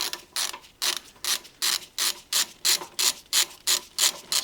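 Torque wrench ratchet clicking steadily as a new front wheel hub nut on a Renault Twingo Mk1 is tightened, about a dozen loud, evenly spaced ratcheting bursts close up with no talk.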